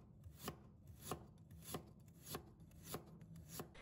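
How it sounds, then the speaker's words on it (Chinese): Steady knife chopping on a cutting board, six evenly spaced crisp strikes through a firm root, close and fairly quiet with no voices. "把生姜切片，"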